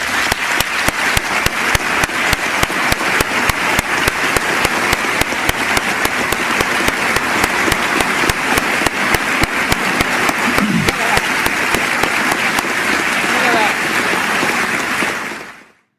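Sustained, dense applause from an audience at a House Judiciary Committee hearing with Secretary Alejandro Mayorkas, loud and steady for about fifteen seconds before cutting off.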